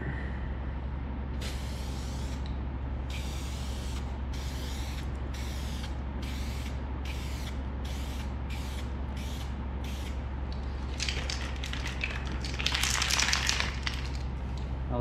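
Aerosol spray paint can hissing in repeated short bursts over a steady low hum, each spray a few seconds long with a rhythmic on-off pattern, ending in a louder, denser burst, while touching up a motorcycle.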